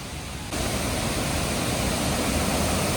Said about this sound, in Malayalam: ഇപ്പോൾ വെള്ളം നല്ല രീതിയിൽ മുകളിൽ നിന്ന് വരുന്നുണ്ടേ